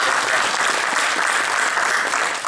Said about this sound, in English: Everybody just to give them a round of applause for all the hard work